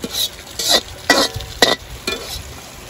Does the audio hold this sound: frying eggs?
yes